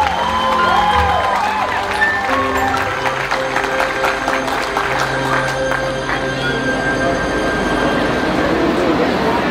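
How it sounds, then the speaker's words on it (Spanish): Loud, sustained applause fills the room for a quinceañera at her fifteenth birthday party, a dense steady wash of clapping with a busy hall and background sounds beneath it. "Escuche también fuerte el aplauso para la señorita quinceañera Yamile."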